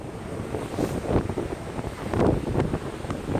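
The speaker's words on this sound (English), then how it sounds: "a lot of wind" Strong wind buffeting a microphone outdoors during a coin metal-detecting dig, a steady low roar with surging gusts that swell louder around the middle and again later, no voices over it.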